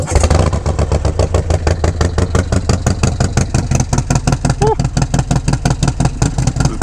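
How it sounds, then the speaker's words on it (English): A stage 2 motorcycle with an S475 cam and a TBR exhaust idling loudly just after a cold start, giving a fast, even, throbbing pulse with a deep rumble, close by, and a voice briefly heard over it. "Give it a nice little cold start."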